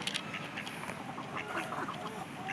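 A duck quacks repeatedly in short, nasal bursts while a small child chases it outdoors in New Zealand, the calls fairly close and uneven in rhythm, with faint background noise and no clear talk.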